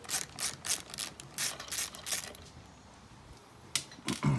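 A hand ratchet backs out motor mount screws on an RC monster truck, with bursts of quick close clicking, a short pause, then a few more clicks.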